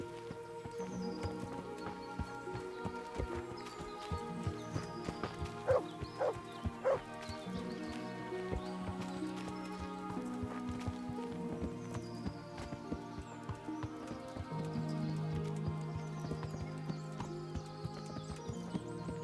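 Rhythmic clip-clop of a horse galloping through woods in the video game Kingdom Come: Deliverance, over a layered music background, with occasional louder hoofbeats and a faint snort.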